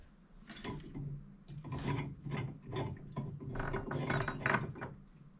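Parts are tightened during installation of new equipment, producing a run of short, close ratcheting clicks and mechanical rattles in irregular bursts, fairly quiet and with no talk.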